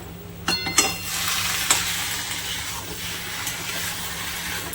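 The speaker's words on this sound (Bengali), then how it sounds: "নেড়ে নিচ্ছি, একটু মিশিয়ে নিই।" Bengali vegetarian cabbage curry stirred in a pan on a gas stove, a soft steady sizzle and hiss with a few scraping clatters of the spoon near the start.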